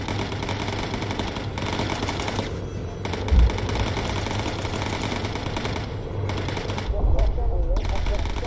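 Gunners' machine guns rattle in Bomber Crew, bursts of rapid fire in waves over droning aircraft engines, with a louder thump midway and voices talking over it.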